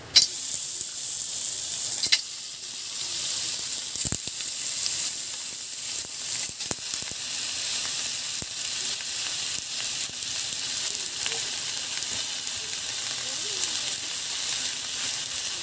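Chunks of meat, large and small, sizzle and fry in a pan with no oil for a Filipino binagoongan dish. A loud, steady hiss carries throughout, with occasional pops and the clink of stirring.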